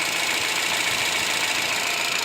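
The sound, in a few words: Holden Cruze engine running after heater hose repair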